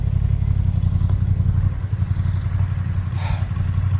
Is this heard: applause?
no